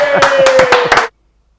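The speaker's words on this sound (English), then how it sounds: "big round of applause for Aaron Walstow" A short round of applause for Aaron Walstow, with about five or six bright claps standing out over a steady background tone. It lasts about a second and then cuts off abruptly.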